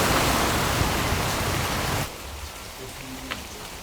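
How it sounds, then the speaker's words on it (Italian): Light rain outdoors in Šuto Orizari makes a steady hiss of drops that stops abruptly partway through, leaving quiet ambience. "Per farvi capire la situazione, giusto qualche gocciolina qui a Sciutorizzari"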